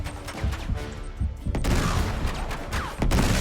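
In the video game Uncharted 3, a grenade explosion and bursts of gunfire boom and crackle through a dense, noisy firefight, with several sharp blasts and a continuous wash of combat noise.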